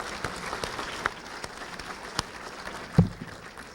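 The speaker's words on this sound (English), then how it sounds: "You guys deserve a round of applause." Gala audience at Lehman College applauding, steady dense clapping from a crowd in a hall, with a few sharper individual claps and a brief louder thump near the end.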